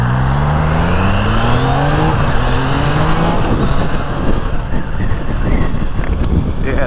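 A 2025 Triumph Trident motorcycle pulls out and accelerates into traffic, its engine note rising steadily and loud over heavy wind buffeting, with road noise and passing traffic blending in.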